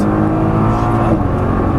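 A Nissan GT-R engine pulls hard on a race track, a loud, steady close-up roar with dense low-end rumble that holds without break throughout.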